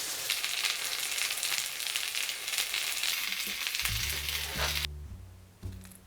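Vegan dumplings fry in sesame oil in a hot pan over high heat, giving a loud, steady sizzle for about five seconds that cuts off abruptly, followed by a few low clunks and softer crackling.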